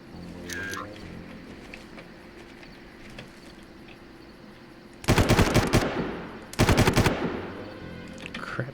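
Machine gun fire in the video game Far Cry: two loud, close bursts of rapid automatic shots, each lasting under a second, separated by a short pause over outdoor jungle ambience with birds.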